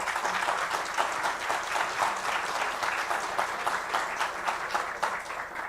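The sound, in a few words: applause in the room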